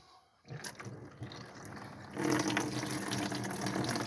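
Hot water gushes from a tap in a 2014 Bailey Pursuit 550 caravan, starting after a brief quiet and growing to a stronger, steady rushing flow partway through.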